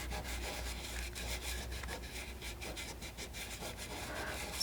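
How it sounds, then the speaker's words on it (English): Glitter is rubbed into tape on a decorated Easter egg, a close, quiet, rhythmic scratchy rubbing in quick repeated strokes. "So you rub that glitter into the tape and then I brush it off again"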